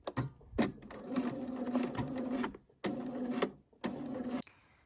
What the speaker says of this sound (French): je vous conseille de faire une marche arrière pour renforcer votre couture